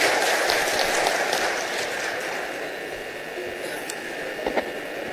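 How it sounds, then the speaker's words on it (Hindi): Crowd applause at a public event in Madhubani district, Bihar, welcoming a Rajya Sabha member to the stage during a chief minister's tour, a dense steady clapping that gradually tapers off over several seconds. "जोरदार तालियों से स्वागत"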